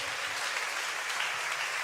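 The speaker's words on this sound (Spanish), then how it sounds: "¿Qué tal si le damos un aplauso al Señor?" Church congregation applauding the Lord, a dense steady wash of many hands clapping at moderate distance for about two seconds, with no voices standing out.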